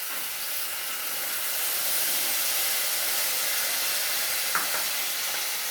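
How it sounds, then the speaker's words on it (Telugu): Tamarind juice poured over cooked rice in a pan for pulihora, a steady close hissing, sizzling wash that carries on evenly for several seconds with a faint brief clink near the end. "ఈ చింతపండు పులుసును దీంట్లో వేయాలి మొత్తం."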